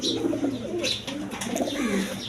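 Several racing pigeons close by give low, throaty coos that overlap in a dense, continuous rumble, with brief brighter flutters and calls breaking through.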